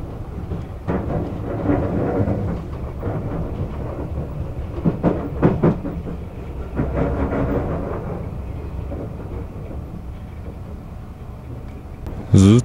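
An Odakyu Romancecar limited express train rumbles continuously along the rails near Seijogakuen-mae with periodic clacks and rattles, a deep steady roar, louder bumps near the end.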